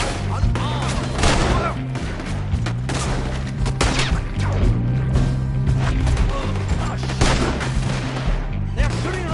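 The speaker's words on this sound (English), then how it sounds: "They're shooting right at me!" Rapid, overlapping gunshots ring out in a Red Dead Redemption shootout, a steady barrage of sharp cracks over a low musical bed that runs the full length without pause.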